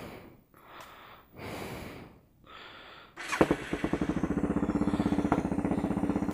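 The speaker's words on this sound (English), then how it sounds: "you're going to want to start your bike up and make sure there's no oil leaks" Suzuki DR650 motorcycle engine cranks and catches after some breathing-like noises, settling into a steady, rhythmic single-cylinder idle close by.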